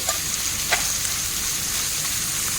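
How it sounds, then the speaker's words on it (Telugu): Dried fish fries on high flame in a pan, a steady bright crackling sizzle with a couple of faint stir taps, continuous and close, with no talk. "బాగా హై ఫ్లేమ్లో బాగా ఫ్రై చేసుకోవాలి."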